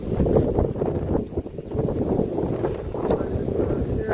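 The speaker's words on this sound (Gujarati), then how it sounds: "આ લીમડામાં જો પવન આવે" Wind blows strongly and continuously through a neem tree, with a rough, gusty rumble and faint rustling over the whole stretch.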